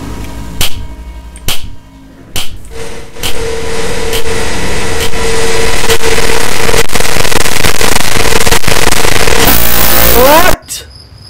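Rocket firework in a Baldi's Basics mod video game: sharp bangs at first, then a long roaring whoosh that builds loud and steady for several seconds before cutting off abruptly.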